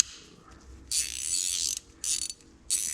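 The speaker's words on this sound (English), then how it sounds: "You can make a ratchet out of a spanner." A spanner-style ratchet tool clicks in three quick bursts of rapid, close, crisp pawl ticks separated by short quiet gaps.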